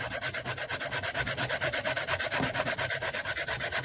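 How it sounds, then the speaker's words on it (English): Fresh coconut grated by hand for coconut milk in a Caribbean tun cornmeal dish, a steady rhythmic rasping scrape repeating several times per second, close and fairly loud, with no talking. "So I'm gonna grate the coconut to use the milk of the coconut into the ton cornmeal."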